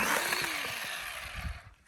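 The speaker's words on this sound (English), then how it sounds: "How's your chainsaw there, Hoss?" A small battery-powered chainsaw whines steadily at first, its pitch sliding down as it winds off, then a few brief low knocks before it fades nearly to silence.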